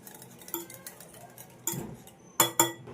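Spoon or whisk beating sour yogurt in a glass bowl, giving a few sharp clinks against the glass amid softer scraping stirs, with two loud strikes near the end.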